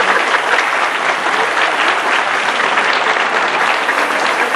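Audience at a comedy show in Tambogrande, Peru, breaks into loud, dense, sustained applause that stays steady with no talking over it.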